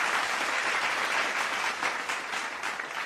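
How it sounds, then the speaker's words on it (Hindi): An audience at a school ceremony honouring a Rajasthan state topper claps loudly and steadily, a dense, close wash of hands that continues unbroken throughout. "तो एक बार जोरदार तालियां फिर से।"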